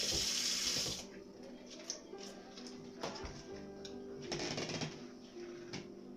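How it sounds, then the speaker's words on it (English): A kitchen faucet gushes loudly for about a second, then water runs more softly over a head of cabbage while it is rinsed. Faint handling noises and the hum of the room sit beneath the running water. "I'm going to wash this cabbage head off"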